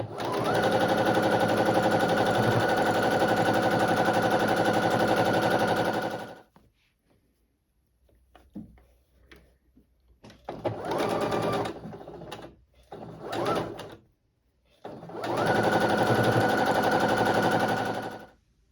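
Sewing machine stitching a quarter-inch seam on a quilt block, heard as a long steady whirring run, a pause with light handling noises, then shorter bursts and a final even run of rapid stitching, close and clear.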